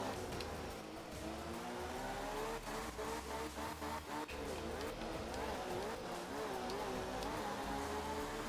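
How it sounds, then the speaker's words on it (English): Engine of a Group 2 rally car in the art of rally video game, revving steadily with an audible double downshift and rising and falling pitch, tire noise under it, loud and continuous throughout. "Whoops, didn't mean to double downshift."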